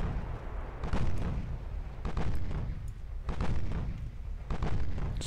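Heavy 8-inch naval guns fire in a dreadnought-era sea battle in Ultimate Admiral: Dreadnoughts, with four broad, booming blasts at roughly even intervals over a continuous low rumble.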